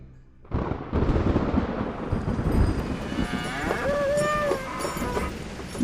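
Cattle pulling a bullock cart on a muddy road moo loudly and repeatedly over a dense, rumbling outdoor background, with long drawn-out lowing calls toward the end.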